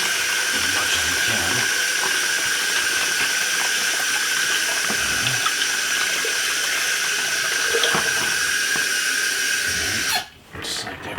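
Hot water running from a hose into a bucket while a Tritech T5 paint spray gun clogged with hardened 2K catalyzed paint is rinsed out: a loud, steady rushing hiss that cuts off abruptly near the end.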